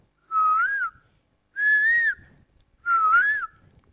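A person whistles an imitation of a koel's call: three clear, rising-and-falling phrases, each about half a second long, separated by short pauses and heard alone.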